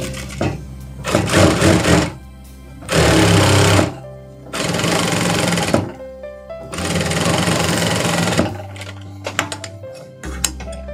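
Sewing machine stitching a folded shirt cuff, running in four loud bursts of rapid mechanical stitching with short pauses between them, close up and with no voices.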